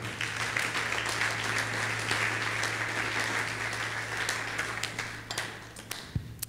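A church congregation applauds during a Sunday worship service, with sustained, fairly distant clapping from many people over a low hum, tapering into a few scattered claps.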